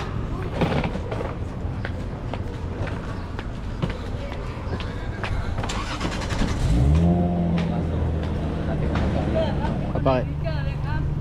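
Taxis and other vehicles run outside Rangsit station in Thailand, a steady street rumble of engines with a car pulling away midway, under people talking nearby.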